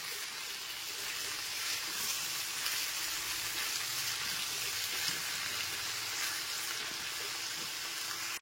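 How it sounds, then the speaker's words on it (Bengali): Mixed winter vegetables fry in a pan over a medium gas flame, giving a steady, close, continuous sizzle and crackle that holds evenly throughout with no talking. "এরপর আমি 3 থেকে 4 মিনিট ধরে গ্যাসের ফ্লেমটা মিডিয়ামে রেখে ভালো মতো সবজিগুলোকে ভেজে নেব।"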